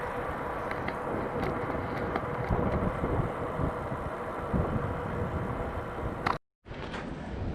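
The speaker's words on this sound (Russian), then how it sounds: "Не, ну а ветер такой, Вань, ну а что ты хотел?" Strong wind buffeting the microphone while riding a mountain bike into a headwind, a loud steady roar with gusty rumble, briefly cutting out near the end.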